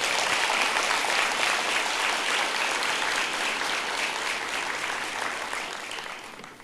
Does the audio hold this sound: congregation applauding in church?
yes